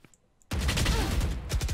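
Shotgun fire in the Valorant video game erupts suddenly after a near-silent pause, loud and close, with a rapid burst of blasts and clatter continuing through the rest.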